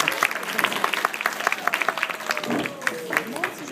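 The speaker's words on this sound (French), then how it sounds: "On peut l'applaudir." A crowd applauding indoors, a steady patter of many hands clapping for several seconds at moderate volume.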